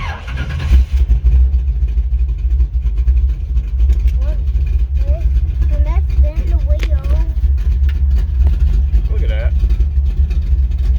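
Old Chevy engine runs with a steady low rumble close by, idling cold after its first startup, while someone talks over it.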